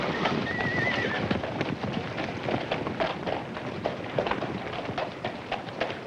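A horse is brought out at an auction, its hooves clip-clopping in a busy outdoor setting, with a short whinny early on and crowd noise underneath.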